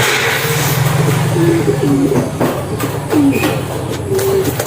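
Pigeons coo softly in repeated low, throaty calls, several overlapping, against a steady background rumble.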